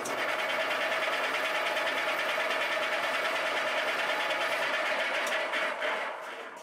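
A machine, likely a lathe or mill, skims down the height of a metal leg, giving a steady, loud whirring drone with a fine high-pitched texture that holds continuously and eases slightly at the very end.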